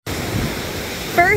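Ocean waves wash in continuously at Cocoa Beach, a broad, steady rush of surf, with a brief voice-like sound near the end.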